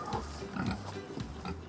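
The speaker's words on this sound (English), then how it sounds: "he's selecting the best pigs to take to this year's show" Pigs on a farm grunt in low, rough bursts close by, several overlapping snorts over about two seconds, as the best ones are picked out for a country show.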